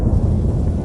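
Thunderstorm in The Witcher 3 game, a loud, dense low rumble of thunder lasting under a second, with no talk.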